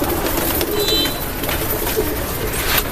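Pigeons coo and flutter close by amid a busy, noisy background, with soft calls scattered through the clip.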